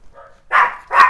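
A neighbour's dog outside gives two loud, sharp barks in quick succession, preceded by a faint whine.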